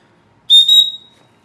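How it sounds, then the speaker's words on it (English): A survival kit's attached whistle gives one short, shrill, piercing blast up close, a clear high tone lasting about half a second and then gone, heard alone against silence. "So let's just give this whistle a quick blow."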